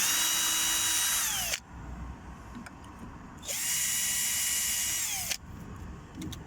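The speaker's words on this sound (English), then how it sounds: "Drilling your pilot holes here, just to put your mounting screws in." A power drill drilling pilot holes for mounting screws in a Ford Focus door whines at high speed twice, each burst lasting about two seconds with its pitch dropping as it bites in, separated by a short quiet gap.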